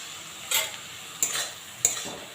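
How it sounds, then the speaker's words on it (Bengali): Chopped coriander stirred into a frying heron flower and shrimp dish, three distinct scraping strokes of a spoon through the pan over a low sizzle, close and clear with no talk. "এবার এর মধ্যে আমি ধনেপাতা কুচি মিশিয়ে নেব"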